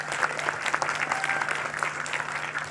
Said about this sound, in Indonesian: Tepuk tangan yang meriah dan tulus untuk Bapak Agus Budiman.